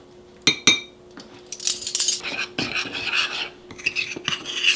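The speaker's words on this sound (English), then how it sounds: "Stirring and scraping the sides of the mug or ramekin." A spoon stirs and scrapes keto German chocolate mug cake batter made with almond flour and baking powder around the sides of a mug or ramekin, giving close, continuous raspy scraping with a few clinks against the sides.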